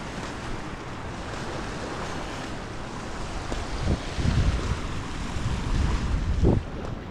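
Sea waves wash onto a shore in Cebu, a steady roar of surf mixed with gusty wind buffeting the microphone and swelling surges near the end.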